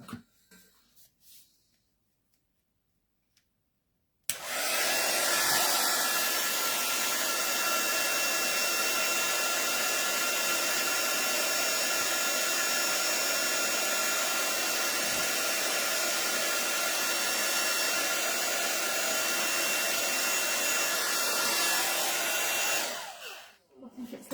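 A heat tool for embossing a stamped rabbit image starts after a few seconds of quiet and blows with a loud, steady, close rush of air for about twenty seconds, then cuts off.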